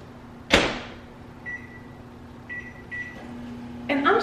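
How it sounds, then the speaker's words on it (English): A microwave door thumps shut, a few short beeps follow, then a low steady hum starts as the oven runs, ending with a clatter. "I'm gonna try to microwave this and see what happens."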